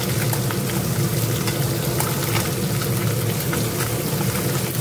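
Large fish frying shop-style at home in hot oil, a loud, dense, continuous sizzle and spatter like heavy rain, close and unbroken for the whole stretch.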